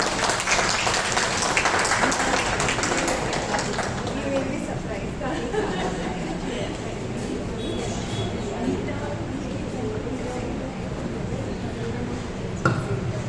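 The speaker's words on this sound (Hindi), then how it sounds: "एक बार इनके लिए ताली बजाएं" Audience applause for a dancer, Zumba instructor and speaker at a women's poetry forum gathering: dense, steady clapping that holds at an even level for the whole stretch, close and continuous.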